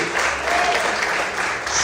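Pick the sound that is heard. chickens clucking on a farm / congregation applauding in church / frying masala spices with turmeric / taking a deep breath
congregation applauding in church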